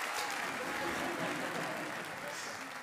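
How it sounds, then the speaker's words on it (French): Audience applause tapering off after an encore at a Paris concert, a steady broadband clatter of clapping hands filling the room, fairly quiet and fading slightly toward the end. "Ça finit, les applaudissements. Ils sont en train de finir."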